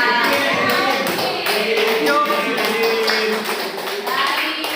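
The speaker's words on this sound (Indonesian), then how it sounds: "Itu tepuk tangan dulu deh buat siapa?" Students in a classroom clap for their classmates, a dense patter of hand claps lasting several seconds, close and fairly loud, with voices mixed in.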